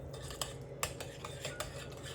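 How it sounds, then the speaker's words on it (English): Potatoes tossed with bacon, cheese and green onions in a bowl, heard as a series of light, quiet clinks and scrapes of a utensil against the bowl in an irregular rhythm, close by. "now you're supposed to toss the potatoes with the bacon and cheese and green onions"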